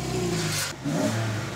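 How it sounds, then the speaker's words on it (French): A Porsche Cayman R engine revs briefly and loudly up close, a mid-pitched roar that swells, dips and climbs again within moments, heard alone. "on va écouter le bruit de ce Porsche Cayman R."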